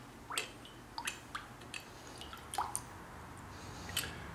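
Water rinsing a custom-made socket: soft scattered drips and small splashy squishes at irregular intervals, quiet and close, with no talk.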